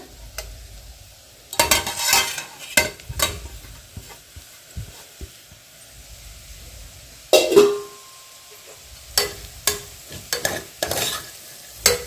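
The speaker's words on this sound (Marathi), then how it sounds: "मसाला एक सेकंड भाजून घ्या मसाला जरा भाजा" Spice masala for vangi masala bhat roasts in a pan, with repeated bursts of scraping stirring and light sizzling between quieter pauses, close and fairly soft.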